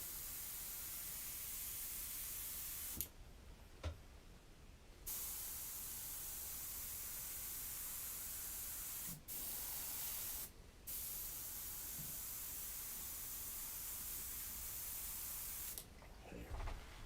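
An airbrush hisses in steady continuous bursts, a faint broadband spray of air that stops briefly several times and resumes, with no talking.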